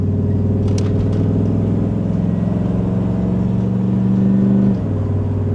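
A car engine revs loudly and holds a steady high roar for several seconds, then drops back to a lower idle.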